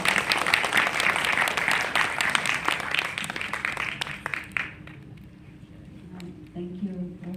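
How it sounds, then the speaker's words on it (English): Audience applause at a clubhouse event, loud dense clapping for several seconds that thins out and fades, followed by a quiet room and a voice beginning to speak. "Please give her a big round of applause"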